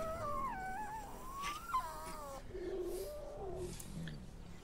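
A Tyrannosaurus rex call from the Primordial Tyrants mod for the Path of Titans video game: a series of whining, moaning tonal cries that rise and fall, followed by lower warbling calls, clear and fairly close.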